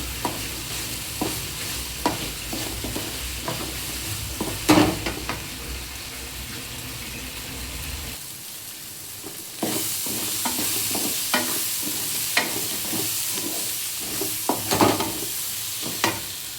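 Ingredients for chicken kulambu sautéing in a pan, a continuous sizzle punctuated by repeated scraping stirs of a spoon, the frying growing brighter and hissier midway; no speech.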